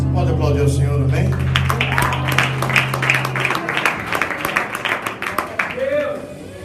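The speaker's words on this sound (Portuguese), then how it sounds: "Você pode aplaudir o Senhor, amém?" A church congregation clapping, a dense patter of many hands that builds and carries on for several seconds while someone speaks over it.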